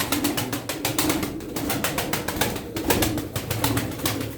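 Tumbler pigeons in a loft at Darıca, soft low cooing repeated a few times beneath dense rapid clicking and rustling, close and steady throughout.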